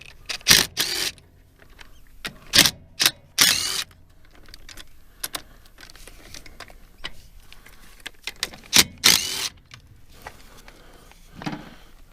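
Fuel line fittings being removed from the filter housing of a fire-damaged International Harvester 1086 tractor that sat for years. Sharp metallic clicks, clanks and tool knocks come in irregular clusters, close and loud, with quieter shuffling between them.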